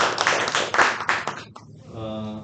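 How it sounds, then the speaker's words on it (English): Clapping at a Toastmasters club meeting, a burst of hands clapping for about a second and a half, then quickly fading into a quieter stretch with a faint hum. "A clap for those."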